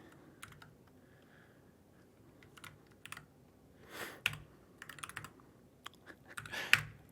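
Keys tapped on a computer keyboard to enter a password, in scattered bursts and single clicks that grow denser toward the end, close and fairly quiet with no talking.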